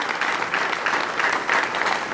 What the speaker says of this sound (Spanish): Ciudadana Carmeli Ivette Gutiérrez Guerra, regidora cuarta, recibámosla con fuertes aplausos